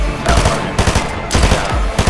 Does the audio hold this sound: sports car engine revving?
no